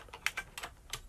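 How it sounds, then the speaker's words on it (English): Keys clack on an IBM Model M clicky keyboard, with about five sharp, close keystrokes in quick irregular succession in a quiet room. "It's my clickety-click IBM Model M"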